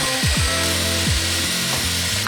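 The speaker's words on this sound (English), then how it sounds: "I'm gonna take my drill brush and scrub deep down inside" A drill-powered scrub brush working deep into a car's grimy interior upholstery, a steady loud whirring motor hum with pitch dips as the brush bears down, continuous and close with no talking.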